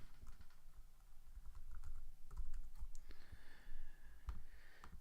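Fast, uneven typing on a computer keyboard, a close run of light clicks and taps with faint background hum.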